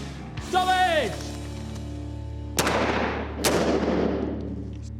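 Police firearms training on a range: a sharp gunshot crack rings out close, followed a second later by another shot with a long echoing tail, after a whooping siren-like tone and a steady background hum.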